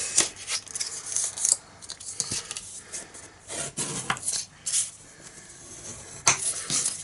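Card stock being cut up to a score line with scissors, a series of close, dry snipping and rasping strokes in an uneven rhythm, alone without talk.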